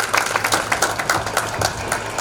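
Retirement party guests give Mishra ji a hearty round of applause, a dense, even burst of many hands clapping close by.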